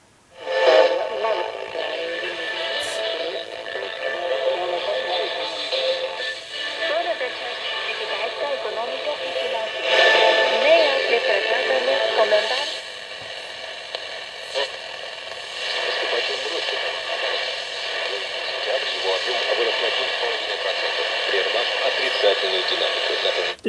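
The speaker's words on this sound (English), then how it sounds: "That means that we hear the radio signal fade." A weak shortwave station from the Netherlands plays through a home-made receiver that has no automatic volume control. A hissy, tone-streaked voice program swells and sinks as the signal fades in and out.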